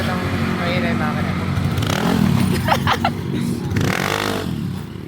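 A Yamaha Mio Gear scooter engine runs and revs up close, with clattering mechanical noise and a voice talking over it.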